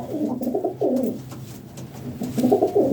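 Pigeons coo in soft, repeated rolling phrases close by, with short pauses between bursts and faint background noise.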